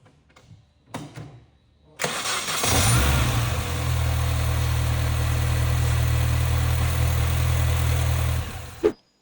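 A supercharged Mini Cooper S R53 engine, stripped of its front end and cold, cranks and fires after a few clicks, then settles into a loud steady idle close by before shutting off.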